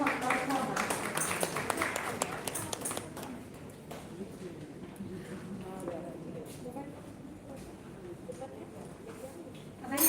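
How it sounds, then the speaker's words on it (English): Audience applause for a nursing student stepping up as a participant at a national-level oratory contest: a dense burst of clapping for the first few seconds that thins and fades into a quieter, murmuring room. "A big round of applause for her."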